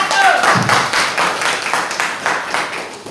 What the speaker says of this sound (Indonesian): coba berikan tepuk tangan untuk kelompok 1